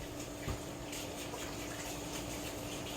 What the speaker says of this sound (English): I'm going to rinse that.